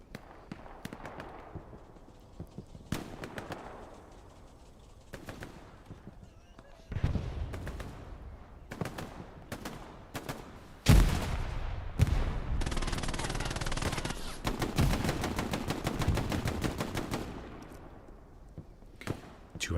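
Gunfire in the WWII shooter Hell Let Loose, scattered distant shots at first, then denser rattling bursts of automatic fire at mid-distance, with someone talking over the battle.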